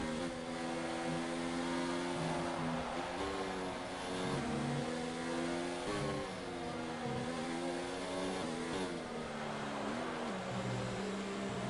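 Racing car engines in an F1-style racing video game, with a loud, steady high-revving whine that climbs and drops sharply through repeated gear shifts and is heard alone throughout.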